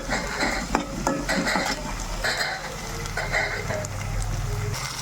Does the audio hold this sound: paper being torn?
no